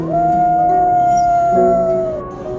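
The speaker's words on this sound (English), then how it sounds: "letting out the loudest howl of its life toward the heights of the canyon" A wolf pup howls loudly in a canyon, one sustained, rising and slightly wavering wail held for about two seconds before tapering off, close and clear over faint wind.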